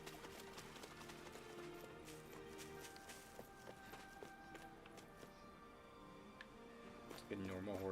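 Horse hooves clip-clop in a Tales of Arise game town, a faint rhythmic patter of steps under background music and a voice talking over it.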